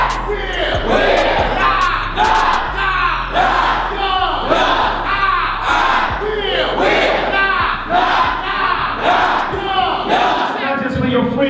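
Assembly crowd clapping and shouting in a dense, continuous roar, rhythmic claps and whoops layered throughout at close range, with loud cheering voices blending together.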